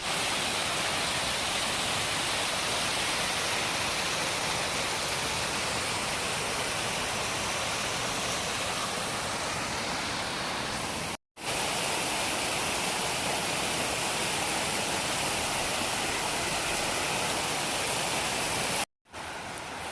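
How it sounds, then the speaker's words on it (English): A waterfall and stream rush beside a trail in Pennsylvania's Grand Canyon near the Algerine Wild area, a loud, constant broadband roar with two brief dropouts. "I believe that there's a waterfall."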